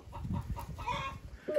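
Hens, including a year-old mixed-breed hen and young pullets, cluck close by in short, throaty bursts, a few soft clucks followed by a higher, drawn-out squawk.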